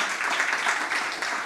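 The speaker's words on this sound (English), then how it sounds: "Please join me in giving her a warm round of applause to welcome her." Audience applause welcoming a speaker to a panel at a women's forum on gender equality, a brief burst of steady, moderately loud clapping.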